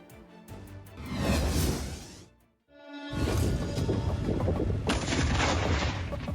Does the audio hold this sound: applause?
no